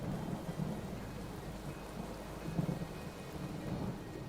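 Steady rain with low rolling thunder during a rain delay at a grass court tennis event, a continuous wash of rainfall with dull rumbles underneath, at even moderate loudness.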